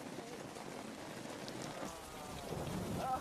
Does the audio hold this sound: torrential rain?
yes